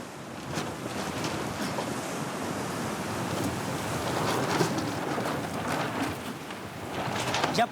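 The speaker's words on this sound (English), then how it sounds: "The wind is strong." Strong wind at sea off the Bazaruto Archipelago, a continuous rushing roar over the water with breaking surf and buffeting against the microphone, loud and unbroken throughout with no one speaking.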